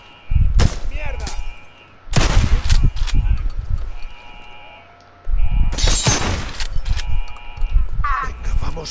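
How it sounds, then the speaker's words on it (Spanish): Gunfire from the video game Days Gone comes in three loud, sharp bursts of repeated shots with shattering impacts, game music and effects in between. "Varios disparos."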